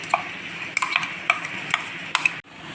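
Mutton is stir-fried with salt and turmeric in a pan. A spoon scrapes and knocks against the metal in quick strokes over a soft sizzle, close by, until a sudden stop near the end.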